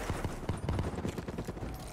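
Rapid shots from a shooter video game crackle in a dense, steady burst, close and loud, with no voices over them.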